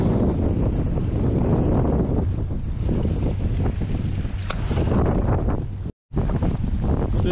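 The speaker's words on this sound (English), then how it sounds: "The wind is just horrendous and got a little chilly." Strong wind roars across a fishing boat on a chilly, choppy day, a loud continuous buffeting rush of microphone-battering gusts that cuts out briefly near the end before resuming.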